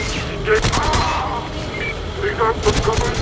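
Rapid gunfire bursts from assault rifles in the Goldeneye 007 Wii shooter, set in the Severnaya Bunker level: sharp cracking volleys at the start and again near the end, loud and close.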